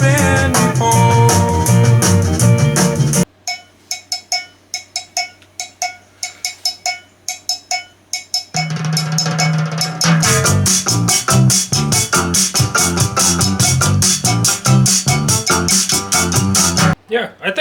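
A KEiiD KD-V01 car radio set up in a house plays music, full and loud, drops to a sparse cowbell-like tapping passage in the middle, then the full mix returns with a sung vocal line.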